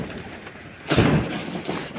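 Pigeons in a home pigeon farm, with low cooing and a louder flutter-like burst of bird sound near the middle over a soft, steady background.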